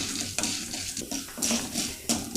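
Asafoetida frying in oil for a tomato chutney makes a soft crackling sizzle, punctuated by several quick scrapes and clatters of a spoon against the pan.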